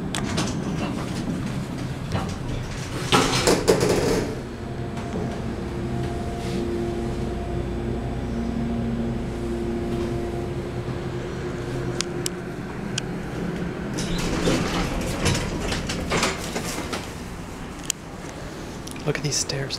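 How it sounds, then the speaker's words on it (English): An elevator motor in a Montreal bookstore hums and rumbles steadily through a ride, with louder mechanical clatter near the start and end and people talking over it. "Let's take one more ride and listen to the motor."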